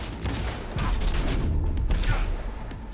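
Cyberpunk 2077 combat with dense gunshots and bursts of fire over a rumbling low backdrop, loud and continuous with a few sharper cracks standing out.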